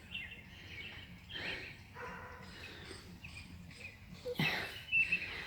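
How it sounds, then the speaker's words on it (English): Distant dogs bark a few times outdoors, faint against a steady background hum, with birds chirping now and then. "Dogs are barking."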